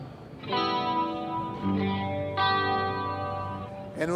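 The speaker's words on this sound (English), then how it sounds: "And if you play with distortion, what's apparent is that you don't hear that kind of a sweep up and down" Distorted electric guitar through a Tech 21 Boost Chorus pedal, played as sustained chords that ring out, then a fresh strike near the middle and another later, loud and alone with a thick, slightly shimmering tone.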